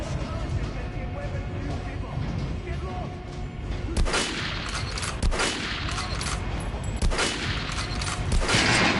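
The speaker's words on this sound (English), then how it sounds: "It's going to take more bullets to penetrate that armor." Gunfire in a PS4 shooter game as an armored training dummy is shot, several sharp bursts and single shots standing out over a constant background, with a voice talking throughout.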